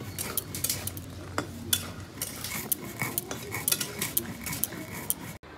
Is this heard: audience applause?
no